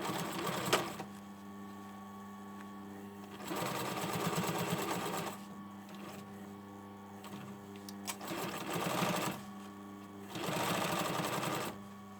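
A sewing machine stitches a 1.5 cm seam on a hoodie, running in three close bursts of steady whirring hum separated by quiet pauses, with no talk.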